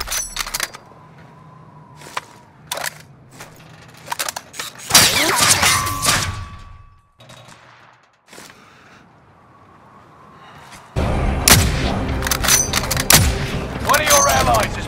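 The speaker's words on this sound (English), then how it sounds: "We're taking fire." Gunfire in Call of Duty with an AX-50 rifle: sharp shots and short bursts cut through intermittent game sounds, with two long stretches of dense, loud firing and clatter.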